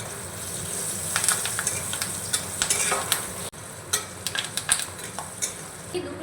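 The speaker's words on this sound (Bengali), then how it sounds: "শুকনো লঙ্কাটা দিয়েও আমি নাড়িয়ে নিচ্ছি এবার দিয়ে দেব কিছু কারি পাতা" Dried red chilies and curry leaves fry in a pan while being stirred, a busy close sizzle punctuated by repeated sharp spatula scrapes and taps against the metal.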